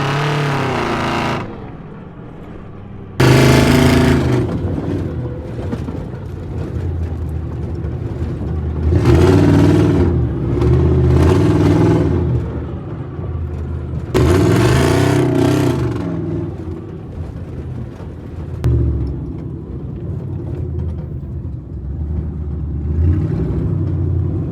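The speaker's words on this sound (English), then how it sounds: "we got the little black truck running. Sounds great." Small black pickup truck engine idling and revving up repeatedly, a steady close rumble rising in several loud bursts and falling back over about twenty-five seconds, with no talk.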